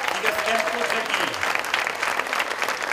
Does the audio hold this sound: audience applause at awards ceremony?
yes